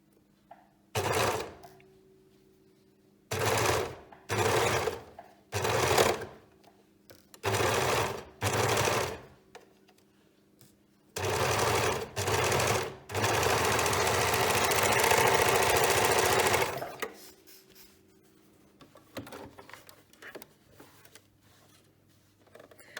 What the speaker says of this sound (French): vous allez pouvoir fermer soit avec la surjeteuse, soit avec la machine à coudre avec toujours un point stretch